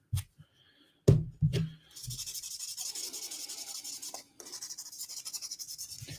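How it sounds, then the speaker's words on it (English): Rhythmic wet rubbing strokes of wet sanding on a Datsun 510's paint, soft and close, following a few knocks and taps at the start. "I like to wet sand because it's more forgiving than just sanding without the water."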